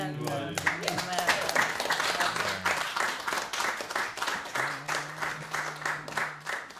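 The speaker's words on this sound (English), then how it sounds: "Let's keep that clapping going for Branwen" An audience at a folk singing session claps for the singer Branwen, starting amid the end of the song and continuing as steady, rhythmic group clapping that gradually thins out.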